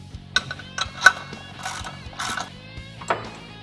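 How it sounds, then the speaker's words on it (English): A clutch removal tool is worked off the clutch of a Can-Am Defender side-by-side, giving a close series of metallic ratcheting clicks and gear-like rattles in irregular bursts. "we're going to go ahead and remove our clutch removal tool"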